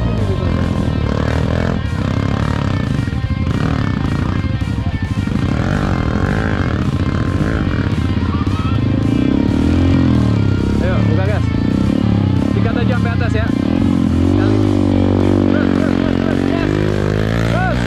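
A motorcycle engine running in first gear during a busy group ride, a loud continuous drone with shifting pitch and occasional revving, heard close under steady talk and crowd noise.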